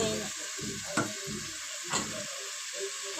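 Food and rice fry in a pan with a continuous crackling sizzle that swells in bursts, marked by a couple of sharp scraping stirs, close by with no speech.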